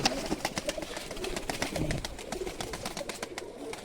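Teddy breed pigeons coo in a loft, low throaty calls overlapping with fluttering and shuffling, close and steady throughout without speech.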